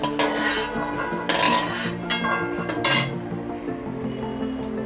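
Fried potatoes scooped from a pan into a bowl, with a string of metallic scrapes and clinks of a spoon against cookware, several louder bursts, close up.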